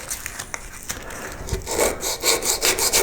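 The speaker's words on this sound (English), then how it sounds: "Then you can use your rifflers, or perhaps a smaller one like this, to start working that, or back to the sandpaper and the template." Riffler file or sandpaper rasping back and forth over a wooden koi carp carving, working the lateral fins, a close series of dry scratchy strokes growing steadier and louder toward the end, with no talking.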